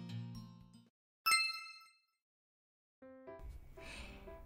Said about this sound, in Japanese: 今日はフルル製の17音カリンバ、こちらをご紹介していきたいと思います。